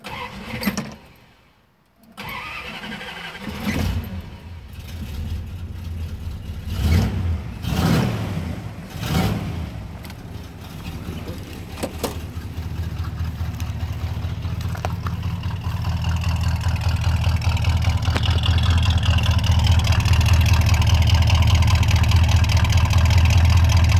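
Car engine with a cam, running a little rich, cranks to life, then idles with a lumpy, loping rumble and a few revs before settling into a loud, steady, rising drone close by.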